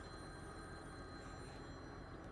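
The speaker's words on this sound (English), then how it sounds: "I got a phone call." Electronic telephone ring, a steady high-pitched warble sounding continuously outdoors in a field during soybean planting, moderately loud with no talking.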